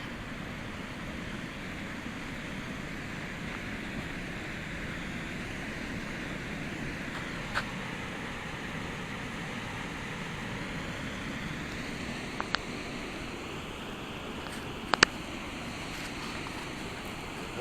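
A steady, broad rushing roar of Niagara Falls, constant throughout, with a few faint clicks over the top.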